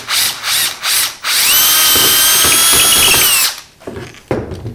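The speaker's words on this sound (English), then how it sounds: "So I'm going to use my drill just to finish that off." A power drill finishes a pilot hole through a wooden live-edge stand, with a few short bursts, then one long steady high whine, then quieter handling.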